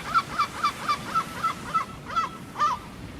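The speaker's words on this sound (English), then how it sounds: "we're listening to seagulls" Repeated seagull-like calls forming part of a seaside soundscape in a video game stream, a steady series of nasal honking cries in a regular rhythm, fairly loud and alone, then a pause and two more drawn-out calls.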